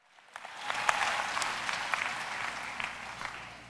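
A crowd applauds steadily for several seconds, dense clapping filling the space at moderate loudness.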